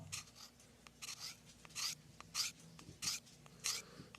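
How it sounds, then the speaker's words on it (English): A saxophone or clarinet reed being bevelled along its edge: short, close rasping strokes repeating at a steady rhythm, each a soft scratchy scrape with quiet gaps between, no talk. "but I'm beveling this edge"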